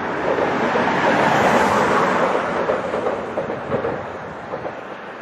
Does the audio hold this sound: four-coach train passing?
yes